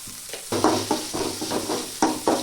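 Onions sizzle and fry in a hot pan while a utensil stirs them in repeated scraping strokes, close and fairly loud.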